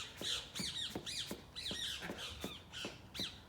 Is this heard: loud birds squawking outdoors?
yes